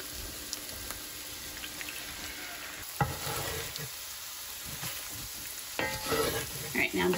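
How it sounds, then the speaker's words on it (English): Eggs poured over browned meat sizzle steadily in a pan while a utensil stirs and scrapes through them in uneven bursts, loudest near the end, with no talking. "Now I'm just gonna go ahead and stir everything together as these eggs finish cooking."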